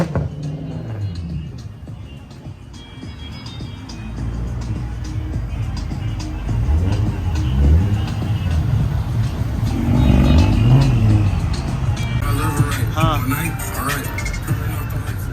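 Several cars rumble and rev their engines at a car meet, with a loud low drone swelling in repeated pushes; people talk over the engine noise throughout.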